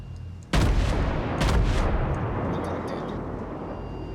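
Warship main guns fire in the naval combat game World of Warships: a loud, close boom with a long rumbling tail, then a second heavy blast about a second later that fades slowly.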